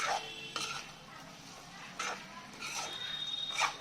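Potatoes stirred into chicken frying in a pan for a Chicken Dak Bungalow curry, with a few scraping stirs and spatula clatters over a faint background sizzle.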